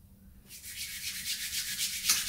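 Balm being rubbed into facial skin across the bridge of the nose, a soft close friction swish that starts after a brief pause and continues steadily to the end.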